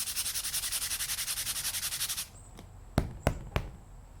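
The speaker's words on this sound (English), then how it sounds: "We're going to create enough sanding dust" Rapid rhythmic rasping strokes of sandpaper rubbing back and forth on leather for about two seconds, followed by three sharp knocks, close up.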